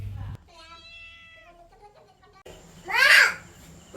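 A hungry house cat meows repeatedly while waiting to be fed its dinner: a long drawn-out cry, then a louder, rising meow at the end, heard nearby with no talking.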